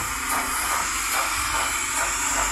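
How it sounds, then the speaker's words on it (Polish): Sound effect from a Piko H0 model steam locomotive with DCC sound: a loud, steady hiss overlaid with rhythmic chuffing puffs repeating about every half second, continuous throughout with no voices. "dźwięk ciuchciajki"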